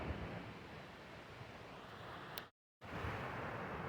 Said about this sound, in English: That's just a little miniature falls coming off a creek